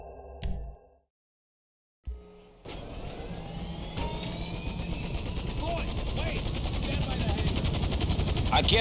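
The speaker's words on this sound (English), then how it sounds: "I guess this is our chopper." A helicopter in the video game GTA V: after a brief sound and a short silence, a loud steady rotor and engine roar starts up and builds, with a rising whine layered on top.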